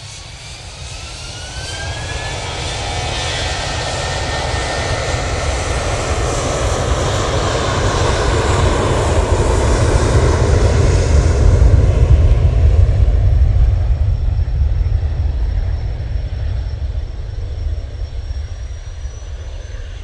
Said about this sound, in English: Lufthansa A320-1200 going back to Frankfurt, lined up, ready to go.